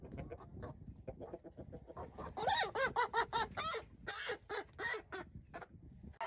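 Barred Rock hens and four roosters clucking nearby, first in scattered soft clucks, then a louder run of rapid excited clucking calls, with brief pauses between bursts and no talking.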